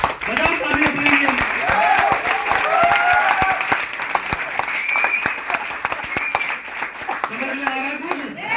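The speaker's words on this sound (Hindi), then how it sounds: "बस बजाओ ताली अपने लिए।" A crowd applauds at a business seminar, dense sustained clapping close and loud across the whole stretch, with a speaker's voice threading over it.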